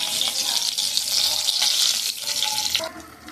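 Whole spices for tempering sizzle in extra hot oil over fried potatoes: a dense, steady hiss fills the clip up close, with a few clinks and a slight easing near the end.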